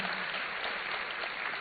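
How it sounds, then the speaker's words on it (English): An audience at a university entrepreneurship launch applauds a professor, a steady, even patter of many hands, fairly faint and distant, continuing without pause. "Another round of applause for him,"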